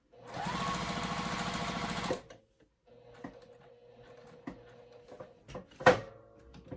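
A sewing machine stitches fabric for a Lola project in a steady, close burst for about two seconds, then falls quiet except for light handling clicks, small taps and a brief sharp knock.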